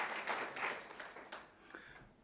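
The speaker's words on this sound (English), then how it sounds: "Can you give yourselves a round of applause in that regard?" Audience at an inauguration ceremony applauds, a brief, fairly soft burst of clapping that swells and fades within a couple of seconds, heard from some distance.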